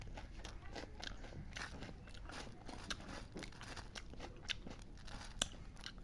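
Puffed rice (muri) eaten with fresh jackfruit, heard as steady close crunchy chewing with dense crackly bites throughout, quiet and with no talk.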